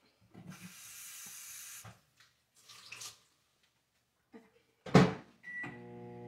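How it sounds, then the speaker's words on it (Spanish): A microwave oven running while melting gelatin, heard as a soft steady hum and hiss in bursts, followed by a clunk of the door and a series of beeps near the end. "la voy a meter al microondas para que derrita"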